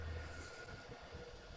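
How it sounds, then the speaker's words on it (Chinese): A passing train gives a low, steady rumble and rolling roar, faint and somewhat distant, with no talking. "火车老铁，火车！"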